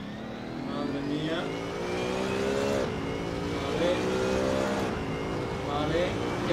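A BMW Z4 GT3 race car engine in the Assetto Corsa racing game drones and revs continuously, pitch rising and dropping through gear shifts, steady and close, with a voice talking over it at times.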